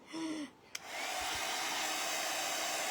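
Hair dryer blowing on a bunny: after a short voice and a click, the dryer switches on and settles into a loud, steady close-up whirring hiss that runs to the end.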